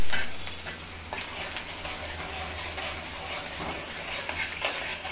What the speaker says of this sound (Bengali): পেঁয়াজ কুচি দিয়ে দিলাম আর রসুন কুচিটা দিয়ে দিলাম। এগুলো এখন ভাজা ভাজা করবো সুন্দর করে।